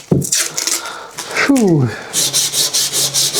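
Sanding a part for a large radio-control VTOL dropship model aircraft build, a steady series of close rasping strokes that repeat rhythmically after a short exhaled breath and a brief voiced sound.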